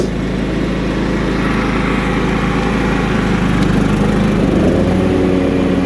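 A John Deere L110 riding lawnmower with a 17.5 HP Kohler Command engine runs steadily and loudly close by, a continuous droning engine hum throughout with no talking.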